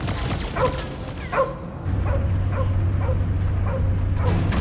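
A dog in the Guardians of the Galaxy video game yips, barks and whimpers in short bursts over a steady low rumbling game soundtrack, the calls fairly close and repeating every half second or so.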